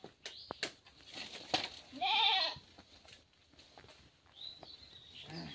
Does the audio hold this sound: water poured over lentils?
no